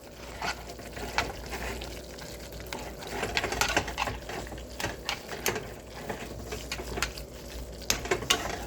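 Soy sauce being stirred into a bowl of ramen: steady close scraping and clinking of a utensil against the bowl, with small rhythmic sloshes and taps, no voices.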